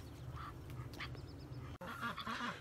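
A group of ducks quacks and honks close by at a farm, a continuous busy chatter of overlapping calls over a low rumbling background.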